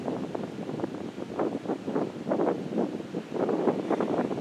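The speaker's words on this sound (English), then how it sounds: "Boy, the wind's turning on me." Gusting wind buffets a microphone outdoors in rough, pulsing bursts that rise and fall continuously at moderate loudness, with no speech over it.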